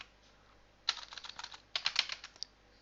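Two quick bursts of typing on a computer keyboard, close and clear, with rapid irregular key clicks in an otherwise quiet room.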